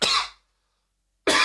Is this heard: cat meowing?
no